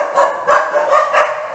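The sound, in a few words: dogs barking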